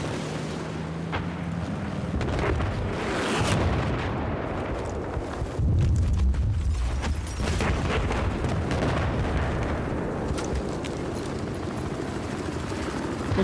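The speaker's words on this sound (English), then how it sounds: "Looks like that tank's getting hit pretty hard." In a Battlefield 4 match, a tank takes repeated explosive hits, with heavy booms and bursts of gunfire over a rumbling battlefield and a helicopter-like drone throughout.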